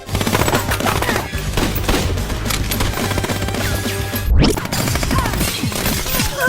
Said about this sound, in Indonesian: tembak-tembakan.